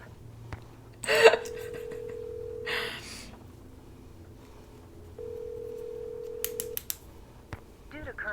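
DTMF keypad tones from a telephone dialing a cab company in a Nancy Drew video game, a quick run of bright beeps set among dial-tone hums and brief noisy bursts.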